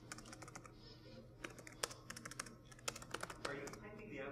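Fast, uneven typing on a computer keyboard during a Node.js and LevelDB talk at a JavaScript meetup: dense clicking keystrokes in short bursts, close up, over a low room hum with some talking.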